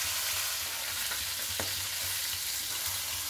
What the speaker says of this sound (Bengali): পেঁয়াজ দিয়ে দিলাম, এরা আর একটু সামান্য ভাজা হোক